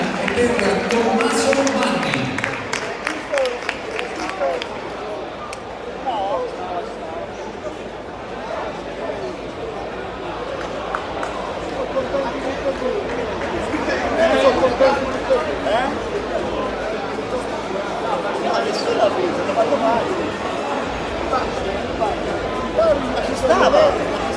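Audience at a Veneto versus Toscana contest clapping and murmuring after a tied verdict: steady applause and crowd chatter filling the room, swelling slightly toward the end, with a voice speaking over it.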